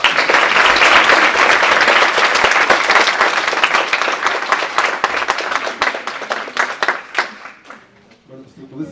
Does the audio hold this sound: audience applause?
yes